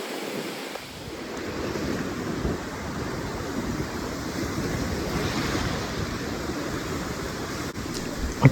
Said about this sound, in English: The water just was very loud and the wind was loud